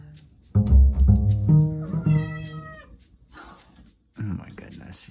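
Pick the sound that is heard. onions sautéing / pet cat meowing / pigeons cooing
pet cat meowing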